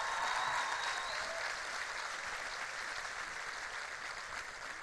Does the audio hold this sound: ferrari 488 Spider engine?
no